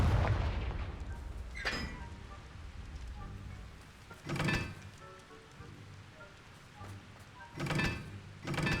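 Confringo fire spell blasts from the Hogwarts Legacy video game land as sharp, booming bursts, one near 1.7 s and pairs around 4.5 s and 7.8 s. They sit over a low, rumbling game ambience with no speech.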